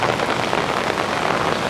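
Heavy rain pours down on a street, a dense, steady hiss of drops hitting the pavement at close range, loud and continuous with no voices.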